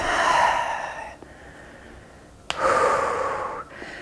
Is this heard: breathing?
yes